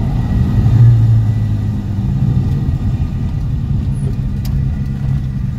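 A Ford EF Falcon's engine idles close by with a deep, steady rumble and slight fluctuations in revs, running alone for several seconds.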